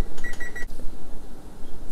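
A kitchen timer sounds three quick high electronic beeps while Korean spicy chicken feet simmer, followed by a quiet room.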